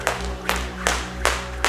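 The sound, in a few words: hand claps during clap push-ups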